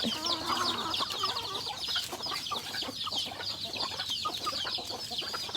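Chickens cluck steadily inside a coop, a busy continuous chorus of hens with scattered higher calls over constant farmyard background noise, no talking.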